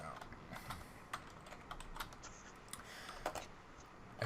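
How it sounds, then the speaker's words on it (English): Close, uneven clatter of typing on a computer keyboard, with bursts of keystrokes and occasional sharper clicks, with no voices over it. "I'm typing them in now."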